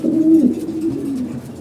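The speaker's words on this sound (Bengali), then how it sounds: "আমাদের কবুতরগুলো দেখেন" Domestic pigeons cooing close by, a single low, throaty rolling coo that swells and then trails off softly.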